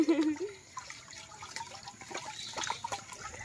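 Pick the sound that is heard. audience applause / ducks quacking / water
water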